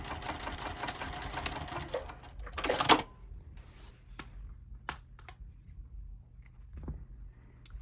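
A sewing machine runs a quick burst as it stitches a short side seam on a crescent bag, followed by quieter handling clicks and taps.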